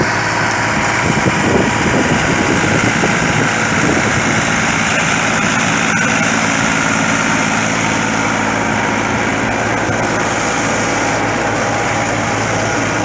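An Al-Ghazi tractor pulling a tyre-wheeled digger drones steadily and loudly throughout, a continuous rumbling hum with a slight rattle, no voices heard.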